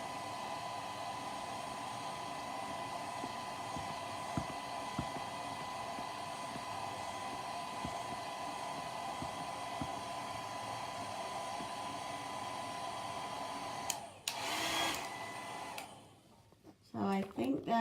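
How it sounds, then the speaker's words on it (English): Hair dryer running on its low setting, blowing dry a freshly made holiday ornament: a steady, fairly quiet whooshing hum that runs unbroken for about fourteen seconds, then cuts off amid a few handling clatters. "Let me blow dry this real quick because I don't want it rolling around. And the low setting's a lot quieter,"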